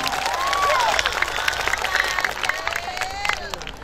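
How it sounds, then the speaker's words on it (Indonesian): An audience at an evening religious gathering in Magelang claps and cheers for a sponsor, a crowd swell of applause under a loud voice that keeps speaking over it. "Tepuk tangan untuk BSI."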